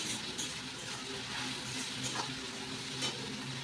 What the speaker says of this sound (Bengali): পেঁয়াজটা ভালো করে আগে ভেজে নিই